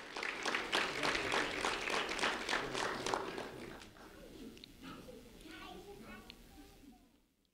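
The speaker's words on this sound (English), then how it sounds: "a round of applause for Georgiana Omino" An audience at a sheriff's office recognition ceremony for a high school student gives a dense round of clapping that stays steady for about three seconds, then thins and fades into a quieter room with scattered sounds.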